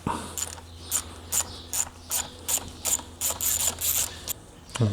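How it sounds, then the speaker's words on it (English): An 8mm socket on a ratchet clicks in quick bursts while removing the stock blow-off valve from a 2019 Ford Ranger, a close, rhythmic series of sharp pawl ratchets. "we're going to take an 8mm socket and we're going to very quickly wrench it out"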